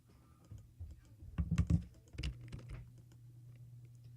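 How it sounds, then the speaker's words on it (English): Random letters typed on a computer keyboard: a quick burst of clattering keystrokes in the middle, with scattered taps before and after, close but fairly quiet with no voices. "So we are just typing in random letters."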